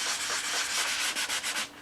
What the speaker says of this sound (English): Just keep moving your hand on the sandpaper.